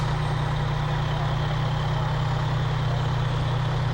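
A small Scotch Plains rescue squad truck in a Memorial Day parade rumbles close by, a steady low idling engine hum holding for the whole stretch with no talk.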